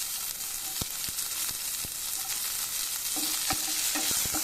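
Garlic cloves and small shallots fry in a pan for tomato chutney, making a dense, steady hiss with a handful of sharp utensil taps scattered through it; no voices.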